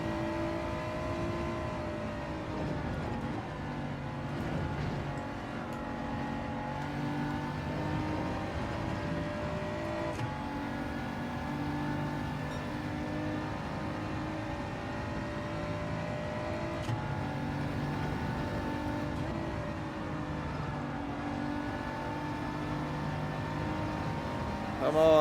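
A BMW race car engine from Gran Turismo 7 drones steadily, with sustained harmonic tones rising and falling through gear changes, while other racing cars battle nearby.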